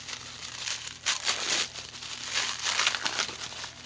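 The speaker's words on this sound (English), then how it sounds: "I don't know who decided they need to wrap it with cellophane" Cellophane wrapping on an Amazon package crinkles and crackles close up in several bursts of handling, with short pauses between rustles.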